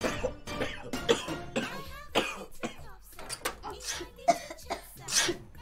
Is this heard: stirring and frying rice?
no